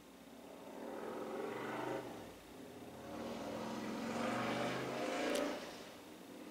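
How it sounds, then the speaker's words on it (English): A neighbor's loud motorcycle riding past outside: engine drone building and fading across several seconds, moderately distant with no talk. "my neighbor's about to ride by on his motorcycle, and it's probably gonna be pretty loud"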